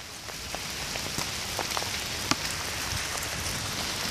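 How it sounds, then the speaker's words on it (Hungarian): Heavy rain pours down outdoors, a dense steady patter of drops on surfaces with a few sharper splats, loud and continuous with no voices. "Ömlik az eső, de dolgozunk muszáj"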